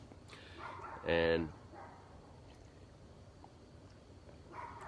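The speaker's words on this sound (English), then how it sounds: "Charlie's barking at the neighbor's dogs" Dog named Charlie gives one short, loud bark outdoors at the neighbor's dogs, with faint distant barking before and after and a brief spoken word.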